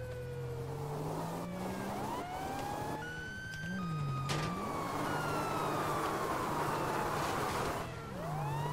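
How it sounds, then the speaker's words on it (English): Police sirens wail in GTA V, rising and falling sweeps layered over a car engine, steady and moderately loud throughout with no talk. "The fucking sirens are pissing me off."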